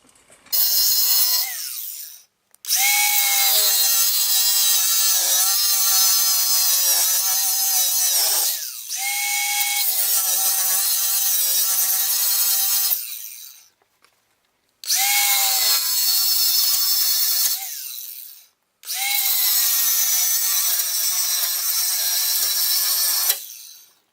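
A power saw screams through metal on a 2003-07 Duramax truck in four long bursts with short pauses between, loud and close, each cut starting with a rising whine.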